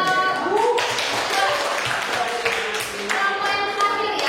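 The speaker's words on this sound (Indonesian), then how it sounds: "kita kasih aplaus untuk kelompok" Classroom applause for a student group after their presentation, steady clapping from many hands filling the room at moderate loudness, with some chatter mixed in.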